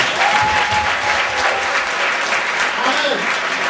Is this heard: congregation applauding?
yes